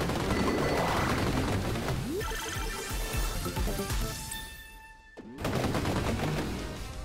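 Dense, continuous video-game gunfire from the guns in Vampire Survivors plays loud and close, with layered rapid shots and sweeping electronic effects and a brief dip in the middle. No speech.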